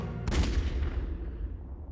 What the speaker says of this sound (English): You see how the game adds a gun sound there? A gunshot?